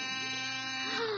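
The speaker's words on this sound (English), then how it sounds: "That's the door buzzer." A steady, faint electric door buzzer drones for about a second, holding one harsh tone throughout.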